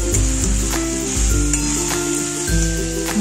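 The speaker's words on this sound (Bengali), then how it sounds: "এরপর আমি এই ভিজে রাখা সয়াবিন আর আলুগুলো দিয়ে ভালো করে আমি কষিয়ে নেব।" Soaked soya chunks and potatoes hitting spiced hot oil in a pan, a steady bright sizzle close by, with occasional stirring knocks and clinks of a spoon against the pan.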